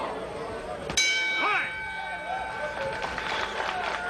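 A boxing bell rings sharply once to end round two of a heavyweight fight. Its ringing tone fades over a few seconds under crowd noise and commentary.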